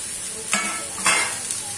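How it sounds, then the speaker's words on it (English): Onions and curry leaves frying in oil in a pan, a constant loud sizzle with a few stirring swishes every half second or so, close up with no talking. "So let's fry them."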